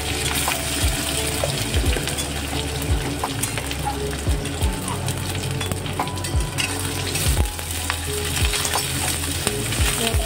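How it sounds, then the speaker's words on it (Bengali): Onions fry in hot oil seasoned with bay leaf, a dried red chilli and cumin seeds, making a continuous loud sizzle with occasional scraping knocks of a spoon stirring the pan. "পেঁয়াজটা ভাজা ভাজা হবে।"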